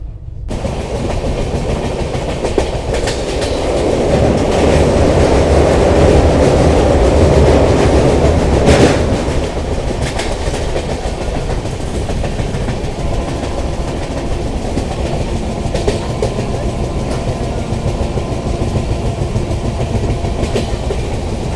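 The 12857 Tamralipta Express from Howrah to Digha rumbles along with a steady clickety-clack of wheels on rail joints, loudest early on, then settling into an even, continuous rattle with no talk.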